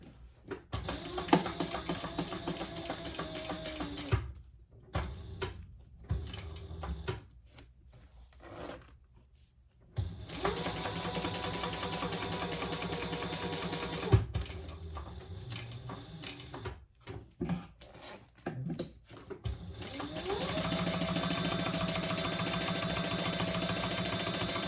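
A sewing machine basting a seam 1/8 inch in on a laptop bag, its fast mechanical stitching whir starting and stopping in short bursts and longer steady runs with quiet gaps between.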